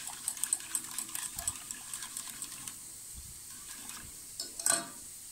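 A spoon stirs a lemon and marshmallow mixture in a pot on the stove, giving faint, irregular scraping and sloshing taps with a brief louder clatter near the end.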